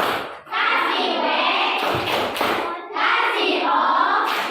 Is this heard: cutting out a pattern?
no